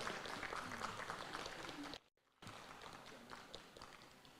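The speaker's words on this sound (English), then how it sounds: "A clap for that as well." Faint, distant applause from a crowd at State House welcoming a marathon runner, a steady patter of many clapping hands that briefly cuts out and then resumes.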